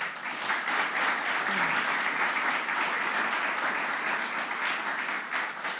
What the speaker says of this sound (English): Another round of applause to our governor.